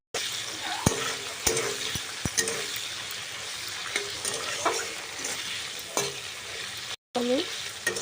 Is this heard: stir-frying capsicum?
yes